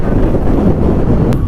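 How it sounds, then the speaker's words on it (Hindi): Strong wind roars and buffets steadily throughout a solo motorbike ride from Delhi into the Uttarakhand hills toward Kartik Swami, a loud, continuous rushing with no voices. "इतनी तेज हवा है भाई। देखियो आवाज आ ही रही होगी आपने भी"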